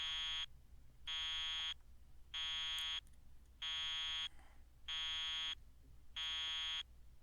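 A PDA alarm in the video game Secret Game: Killer Queen beeps in six even, steady electronic pulses with short gaps between them, moderately loud against a low background hum, with no one speaking.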